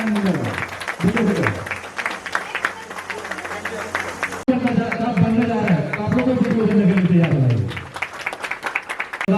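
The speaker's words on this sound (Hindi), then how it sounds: "मेरे में जोरदार तालियां और उनको सम्मानित करें।" Applause rises from the audience while a guest is honoured at a community award function in Jharkhand, clapping running under someone speaking loudly over a microphone.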